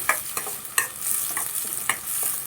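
Onion and a green chili sautéing in a pan for Madurai-style kothu parotta, a close hiss with quick rhythmic stirring scrapes repeating every half second or so.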